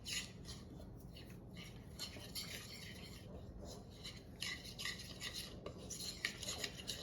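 Keto brownie batter being stirred in a bowl, with continuous scraping and clinking of a utensil against the bowl, close and fairly soft, no talking.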